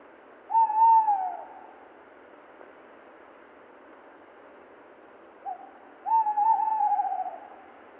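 An owl gives two drawn-out, quavering hoots several seconds apart, clear and isolated against a quiet, hissy background.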